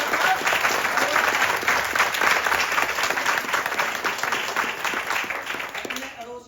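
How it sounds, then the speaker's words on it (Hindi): A crowd at a talk breaks into loud, sustained applause on cue, dense clapping rolling on for several seconds before tapering off near the end, with some voices mixed in. "एक बार जोरदार ताली होनी चाहिए।"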